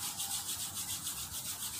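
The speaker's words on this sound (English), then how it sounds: "Now rub your both hands," Two hands rub briskly together in a soft, rhythmic swishing, close and quiet, with no talking during it.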